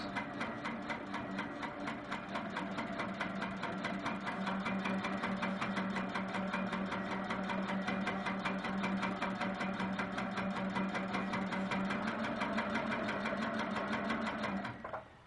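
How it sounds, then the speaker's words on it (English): A sewing machine stitches round circles along a quilt's inner border, running in a fast, steady mechanical chatter of needle strokes for about fifteen seconds before stopping, close and alone without talk. "I'm going to start to stitch my round circles"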